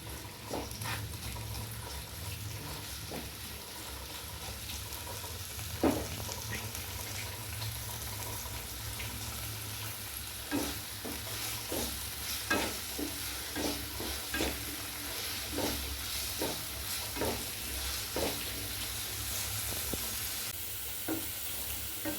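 Mysore spinach stir-fried in a pan until crisp, giving a steady low sizzle under repeated scraping and tapping strokes of a spatula that come in irregular bursts, close and moderately quiet, with no voices.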